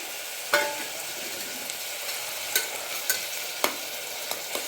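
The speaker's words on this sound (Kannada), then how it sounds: "ನಾನು ಎರಡು ಟೊಮೆಟೊನ ಕಟ್ ಮಾಡಿ ಎತ್ತಿಟ್ಕೊಂಡಿದ್ದೇನೆ ಅದನ್ನು ಹಾಕೊಂಡಿದ್ದೀನಿ" Chopped tomatoes fry in a pan with a steady, bright sizzle, broken by a few sharp clicks of stirring at irregular intervals; close and fairly loud, with no voices.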